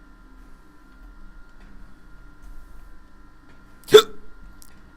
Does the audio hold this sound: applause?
no